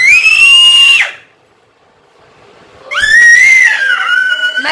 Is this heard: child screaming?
yes